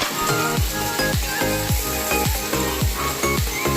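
Cauliflower and potato pieces fry in a pan with a constant, fairly loud sizzle, heard over a steady rhythmic pulsing backdrop and without speech.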